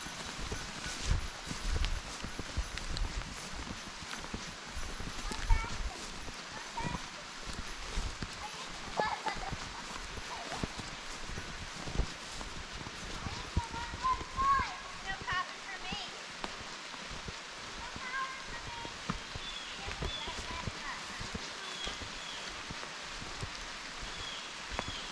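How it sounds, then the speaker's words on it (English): Steady rain falls through woods around a Poconos cabin, a dense even hiss with scattered patter, joined by quick footsteps running over wet ground. "Raining pretty good, bud."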